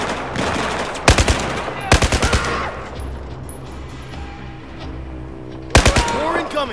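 Battlefield 4 gunfire, with three loud close automatic bursts spaced a few seconds apart over a low rumbling battle background, with some speech faintly present.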